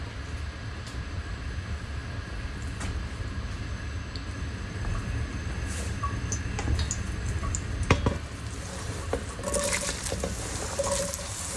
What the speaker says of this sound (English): And then I like to throw the onions in there and get them simmering.